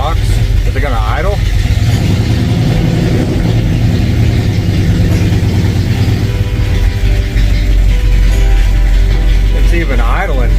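A 1967 Ford F250 Highboy's engine idles on a newly installed carburetor, a loud, steady low rumble with mechanical clatter close by, while someone talks over it.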